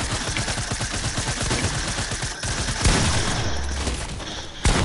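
Video game gunfire from a first-to-30 shootout match: dense, rapid automatic fire close and loud throughout, with a few heavier blasts breaking through the continuous barrage.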